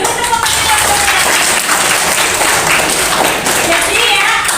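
Students in a classroom clap together in loud, dense applause, a continuous close clatter of hands with some voices mixed in.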